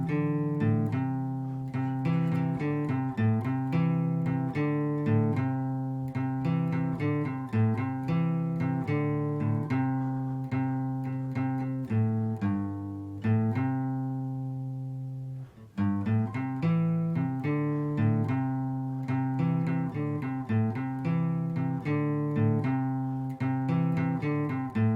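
Guitar plays the intro lick of a song, a steady, bright picked riff that runs continuously for about 25 seconds with a brief pause near the middle, played alone with no talking.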